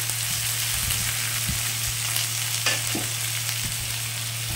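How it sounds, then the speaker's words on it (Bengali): Dried mango pulp, raisins, dates and cashews are stirred in a hot pan for a mango chutney. A soft, continuous sizzle runs throughout, with scattered scraping knocks of the spoon. It is close and moderately quiet, with no voices. "দিয়ে একটু ভালো করে নেড়ে নিচ্ছি"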